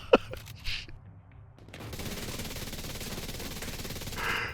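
FAMAS rifle fire in the video game The Division 2: a sharp shot at the outset, then a dense, sustained rattle of rapid gunfire with a brief louder swell near the end.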